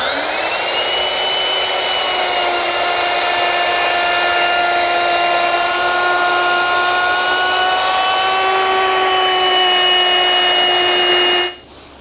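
A power tool, likely a router, rounds the top and bottom edges of a wooden desk top to a half-inch radius, giving a loud, steady high whine that shifts pitch slightly before spinning down at the end.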